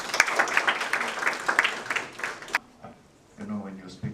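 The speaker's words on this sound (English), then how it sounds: "A round of applause, please." Applause from a crowd at a youth ambassadors conference, steady clapping for a couple of seconds that cuts off abruptly, followed by quiet and a brief voice.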